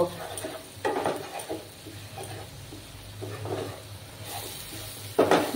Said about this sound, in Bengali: সেই বেসনটাকে ভালোভাবে ভেজে নেব